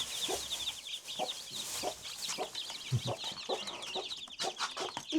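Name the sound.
chickens clucking, hen with chicks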